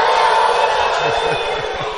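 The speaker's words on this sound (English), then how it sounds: "Say woo woo woo woo woo woo woo woo." A church congregation shouts "woo" together in a loud, crowded roar, voices overlapping in rising whoops that rise and fall over a couple of seconds.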